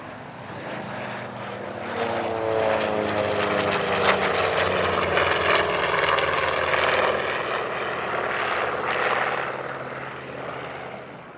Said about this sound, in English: this Moulin-based AD-4N Skyraider from France Flying Warbirds, and the pair join up in formation before commencing their solo displays